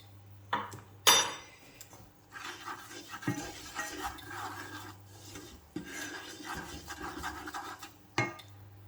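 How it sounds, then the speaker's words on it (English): A spoon scraping and stirring Thai green curry in a metal pot, with intermittent rasping strokes and clinks against the sides and a few sharper knocks, close and clear with no talking. "Give it a stir."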